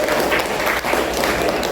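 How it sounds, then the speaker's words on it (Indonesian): A short burst of applause from an Indonesian gathering on gotong royong and coaching for academic supervision, steady dense clapping filling the moment, with a faint voice underneath. "Beri tepuk tangan loh untuk kita semua."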